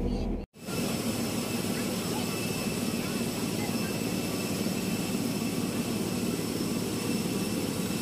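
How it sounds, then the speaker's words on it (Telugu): Steady loud roar and whine of jet engines from an airliner standing at the gate after landing, continuous broadband noise that starts after a brief cut and holds throughout, with some voices faintly mixed in. "ఇంకా నార్మల్గా ఫ్లైట్ వచ్చేసేసి ఆగిందండి."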